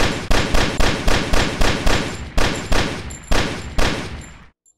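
Shots fired at a pot in a video game ring out as a fast, even series of about a dozen loud, sharp blasts close up, then stop abruptly into silence.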